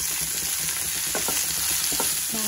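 Chopped spring onions fry in a pan with a loud, constant sizzle, while a few light scraping and tapping strokes from stirring come through close up.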